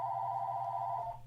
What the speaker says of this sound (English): I got a phone behind me.